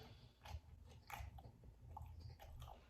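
Crispy birria tacos are bitten and chewed up close, several soft crunching bites spaced through a quiet, low-level scene with no talking.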